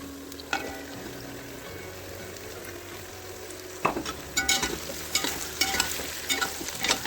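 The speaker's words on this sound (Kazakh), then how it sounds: "Жақсылап араластырамыз." Carrots, onions and meat for Uzbek plov sizzle steadily in a hot pan while a utensil stirs and scrapes through them, with light repeated clicks growing busier toward the end.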